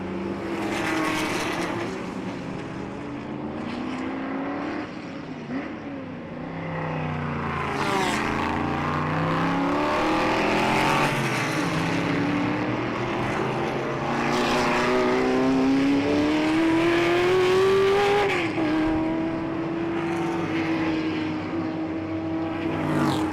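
Classic race cars, a Cobra 427 leading a GT40, roar past at a historic circuit race, engines rising and falling in pitch as they accelerate and pass, loud and continuous with no talk.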